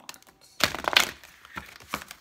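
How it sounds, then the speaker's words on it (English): Tarot and oracle cards being shuffled and slapped down on a table, a few sharp close slaps and papery riffles in quick bursts over about two seconds, with no talking. "Sorry for all the slamming on the table. I know it was probably loud."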